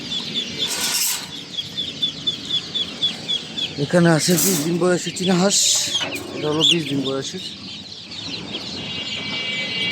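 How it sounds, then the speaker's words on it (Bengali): Twenty-day-old Chinese ducks at a poultry market: several short bursts of nasal calling over steady high chirps and busy market noise, with wing flapping and someone speaking. "এখানে আছে 20 দিন বয়সের চীনা হাঁস।"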